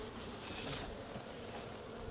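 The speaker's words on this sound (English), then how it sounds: "This is full of bees as well." Dense, steady buzzing of many honey bees crowding a heavy hive super during a morning hive inspection outdoors, a continuous close insect drone with no talk over it.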